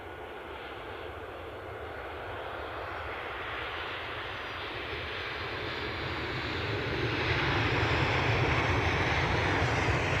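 A passenger airplane's engines roar at Edinburgh Airport during take-off or landing, a broad steady rumble from a distance that swells noticeably louder toward the end.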